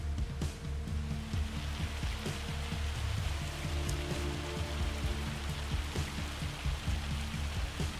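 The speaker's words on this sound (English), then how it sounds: "A lot of rain coming in." Steady rain falls in the Farming Simulator farming game, a soft, even hiss of drops on surfaces that continues without a break at low volume, with no talking.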